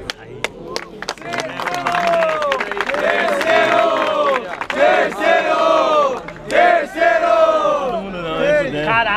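A rap battle crowd cheers and shouts loudly, with scattered claps and whistles rising into a sustained roar, voices yelling over one another.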